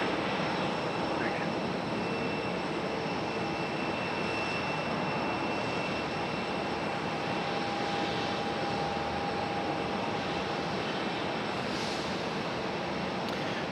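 Jet airliners landing one after another at Raleigh Durham International Airport, a steady broad engine roar that stays loud and constant throughout, with a faint tonal whine running through it.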